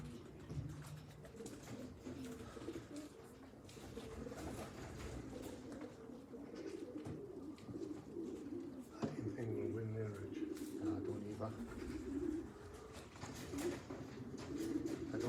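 Pigeons cooing at a pigeon race, a soft repeated murmur of coos from a nearby flock with people talking over them throughout.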